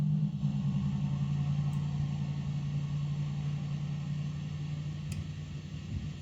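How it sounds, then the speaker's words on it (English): A vehicle passes slowly on a road at dusk, heard as a low, continuous engine rumble and hum at moderate distance that fades slightly toward the end. "You can still hear the vehicle, still see its taillights from time to time."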